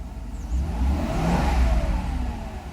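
A Mercedes engine, still cold in its warm-up stage at 12 °C, swells through a single moderate throttle rev and settles back. The sound is fairly quiet and close, with no talking.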